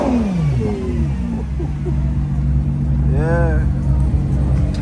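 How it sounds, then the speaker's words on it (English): A Ferrari Purosangue pulls up on a London street, its engine rumbling low and steady with a brief rising rev, while people nearby talk over it. "Pull up. Ferrari Purosangue."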